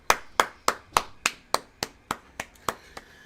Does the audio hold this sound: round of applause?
yes